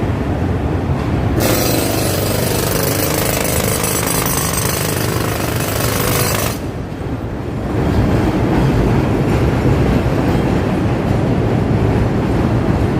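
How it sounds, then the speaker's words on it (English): An elevated train in downtown Chicago rumbles loudly past with a harsh, rattling metallic roar, easing briefly before a heavy rumble resumes. "here comes the train. I think I hear the train coming here."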